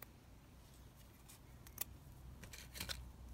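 Scissors snipping trim for a junk journal topper, a few quiet, crisp cuts in a hushed room, with no talking.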